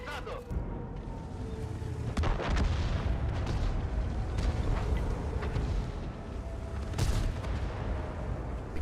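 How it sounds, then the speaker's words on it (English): Tank cannon fire in a World of Tanks-style online battle, aimed at an IS-6 heavy tank across a ridge line: a few heavy booms over constant battle rumble, the sharpest blasts landing near the middle and late in the clip. "SputnikRSS is putting a couple shots into the IS-6 across the ridge line"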